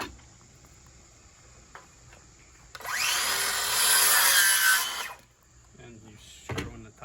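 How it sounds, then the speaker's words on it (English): The top of a wooden nesting box made from recycled materials is screwed together, giving one sustained whirring, grinding burst of about two seconds mid-clip, close and loud, with quieter handling knocks before and after. "And you screwing the top together."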